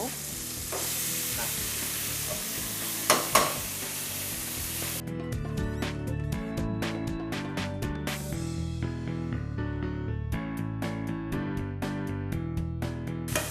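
Pork seasoned with curry powder, turmeric, sugar and soy sauce stir-fries with a hissing sizzle, followed by a run of rhythmic metallic clanks and scrapes of a spatula against the pan, with no talking.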